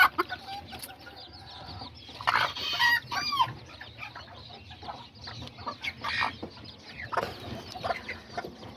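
Azteca roosters and hens cluck and squawk in uneven bursts close by, with a louder cackling cluster early on and softer scattered clucks continuing after.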